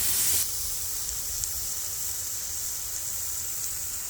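Steak sizzles steadily in a hot pan, a close, continuous hiss of frying fat that starts with a brief louder burst and then settles to an even crackle.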